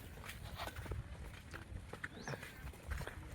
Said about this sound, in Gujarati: જો રંજીત ઘોડો હાઈ રહ્યો હે